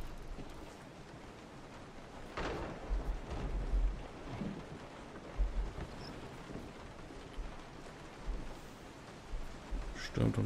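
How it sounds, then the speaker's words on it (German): Steady rain hisses throughout, with low rumbling thunder swelling a few times, and a muffled voice can be heard briefly in the background; storm outside in Resident Evil 7. "Stürmt und regnet draußen."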